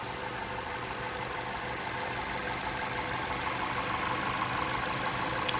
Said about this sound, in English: Engine runs nice and smooth, no odd noises or vibrations.